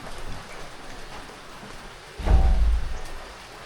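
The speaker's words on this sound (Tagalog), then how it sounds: "Ay, ulan oh." Rain falling in a stormy morning downpour, a steady wash of drops that swells into a heavier, louder burst partway through before easing again.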